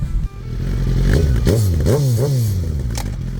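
A repaired, previously crashed Suzuki GSX-R 1000 sport motorcycle engine idles loudly up close, then revs hard twice in quick succession, pitch rising and falling with each throttle blip.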